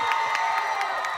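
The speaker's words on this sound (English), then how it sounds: "Please give a round of applause for the staff members who gave the same energy back and enjoyed with us." Concert audience cheering and clapping in a theater for the staff after a K-pop girl group's show, a dense continuous wash of crowd noise with shouts and whoops, loud and steady throughout.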